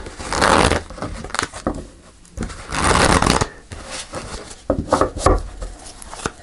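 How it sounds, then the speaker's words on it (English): Tarot cards are shuffled in several bursts, riffling and sliding with brief pauses between, close by and fairly loud. "I'll just do one more shuffle."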